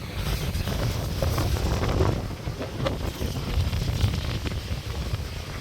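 Strong wind buffets the microphone in a constant low roar, with rough surf and rushing sea water beneath it at the Point Pedro coast, and no voices.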